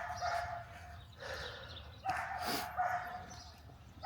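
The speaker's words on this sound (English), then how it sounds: "that dog is just going nuts back there" A dog barks repeatedly in the background, with several sharp barks spread irregularly over a few seconds at moderate distance, and no talking in between.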